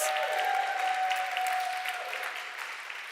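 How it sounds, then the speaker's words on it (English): A theater audience applauds award-winning news creators, a steady wash of clapping that starts full and slowly thins toward the end, with a faint tone running under it. "Let's give them all another round of applause for our fantastic creators."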